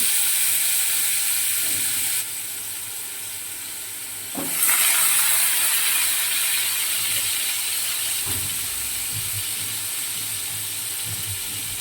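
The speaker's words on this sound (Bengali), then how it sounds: "একটু জিরে ফোড়ন দিলাম" Cumin seeds sizzle in hot oil for tempering, a steady hissing fry that stays fairly even throughout, with a few faint clinks and a brief louder swell partway through, and no talking.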